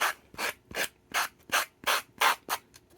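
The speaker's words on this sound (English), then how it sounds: "I'm kind of rounding off the cardboard now because little spots between the cardboard and the paper was a little uneven" Rubbing to round off the cardboard edges of a paper heart ornament, eight evenly spaced close scraping strokes with short pauses between, no talking.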